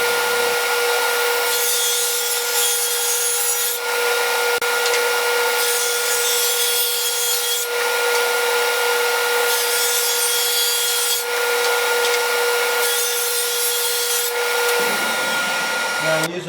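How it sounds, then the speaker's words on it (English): Table saw cutting a groove in wood for a quarter-inch plywood bottom: a loud, steady motor whine with three or four rising and falling passes of blade biting into the board, then spinning down at the end. "now I'll cut the groove for my 1/4 inch ply for the bottom"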